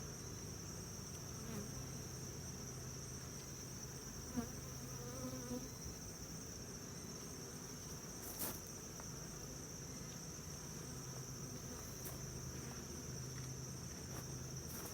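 Honeybees at an open hive make a faint, continuous buzzing drone with an insect hum over it, steady throughout and heard from a little distance with no talking.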